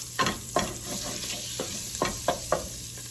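Mirepoix of carrots and onions sautéing in melted butter, a low steady sizzle with a spoon scraping and knocking the pot in quick irregular strokes, no one speaking.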